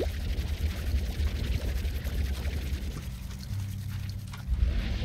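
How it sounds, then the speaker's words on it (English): Berries dumped out in the game Slime Rancher, a continuous loud pouring, rattling rush that runs the whole length, close and unbroken, with no voices. "Wow, we're just dumping berries all over the place."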